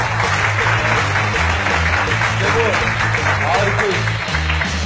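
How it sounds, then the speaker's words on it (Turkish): A studio audience on a Turkish comedy show applauds a newly arrived cast member, Sezar, with dense, steady clapping over a low, pulsing music bed throughout. "Bir alkış Sezar'a."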